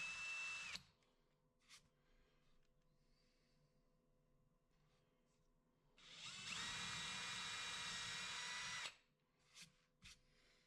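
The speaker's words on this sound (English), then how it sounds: "This speeded up clip shows me screwing the mounting block down to the baseboard with my screw gun." Cordless screw gun driving wood screws through a mounting block into a baseboard, with two short whirring bursts and a sustained three-second run, alone in a quiet workshop.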